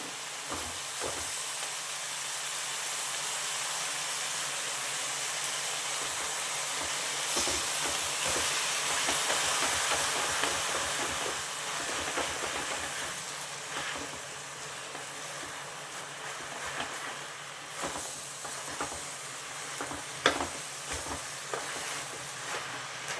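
Spinach for palak paneer hisses softly in a hot pan, a steady, faint sizzle broken by occasional scraping clicks as it is stirred, with no talk.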